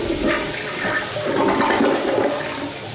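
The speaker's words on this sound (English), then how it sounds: "Flush the toilet." A toilet in a new home flushes with a loud, steady rush of water that swirls and drains for about three seconds, nearby and continuous.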